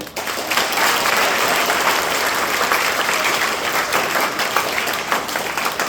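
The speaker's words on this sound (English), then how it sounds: "So let's give a huge round of applause to Preston Tran." A graduation crowd gives sustained, loud applause: thick, even clapping from many hands that rises quickly and holds steady for several seconds.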